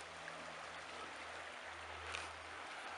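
River flowing beside a campsite in Sweden, a steady broadband rush of moving water heard close and continuous, with a faint low hum underneath and no voices.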